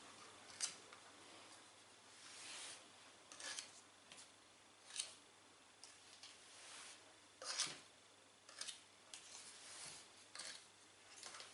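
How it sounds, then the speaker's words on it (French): Excess pastry dough is trimmed from around the rim of a dish while making a fromage blanc tart: quiet, intermittent snipping and scraping cuts spaced a second or two apart, with no talking. "couper donc l'excédent de pâte."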